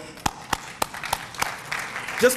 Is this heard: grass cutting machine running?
no